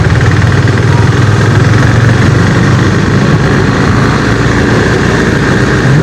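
A KTM RC 390 motorcycle engine runs loud and close in a steady, even drone with a throbbing low rumble and no speech.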